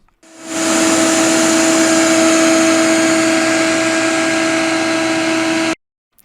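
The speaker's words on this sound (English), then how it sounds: "So now you hook up the shop vac to it and you push it against that pipe and let the water just spray out the other end." A shop vac set to blow pushes air through a saltwater pool's plumbing pipe to clear out water, a loud steady whining roar that starts abruptly, holds for about five seconds and cuts off.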